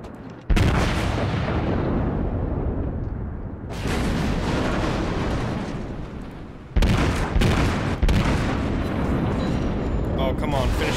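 Battleship main guns fire shells in World of Warships, with several heavy booming salvos that roll into long rumbling decays, loud and close, broken by short quieter gaps.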